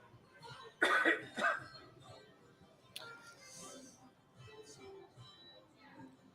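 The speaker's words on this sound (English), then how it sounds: "Got a cough in me here." A couple of sharp, close coughs near the start, followed by quiet throat-clearing and faint sounds from a person nearby.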